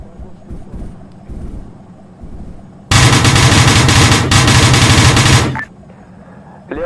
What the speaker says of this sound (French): on est en train d'ouvrir le feu